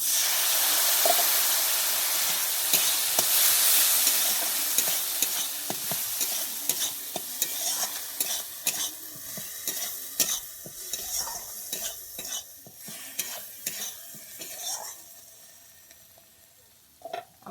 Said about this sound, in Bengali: দিয়ে আমি আবারও ভালোভাবে একটু কষিয়ে নিচ্ছি